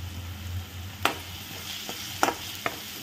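Sliced onion fries in a pan with turmeric and spices for a Nashik-style sandge curry, giving a steady sizzle with a few sharp scraping stirs of a spoon. No one speaks.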